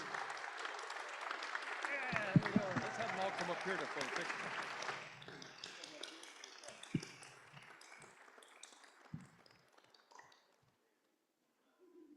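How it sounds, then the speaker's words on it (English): Audience at a city State of the City event gives award recipients a standing ovation, with dense applause for about five seconds before it thins into scattered claps, shuffling and background voices. "How about a standing applause"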